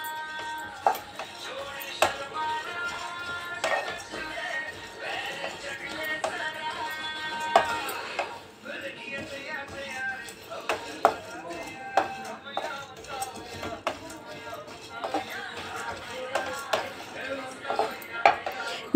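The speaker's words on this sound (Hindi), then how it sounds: "इसमें घी नहीं डाला, हमको बस यूं ही रोस्ट कर लेना है इसे हल्का सा, यानी क्रिस्प कर लेना है हल्का सा।" Whole seeds dry-roast in a pan with no ghee, giving soft scattered clinks and taps of a spoon against the metal over a faint background, with occasional speech.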